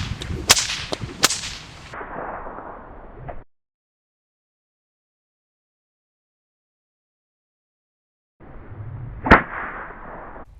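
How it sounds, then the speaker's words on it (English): A whip cracks in the snake killer style, the lash brought down near the ground: a few sharp loud cracks close together, then a long silence, then a single crack. "when it comes down at the ground, it's still forming that loop and getting that nice crack"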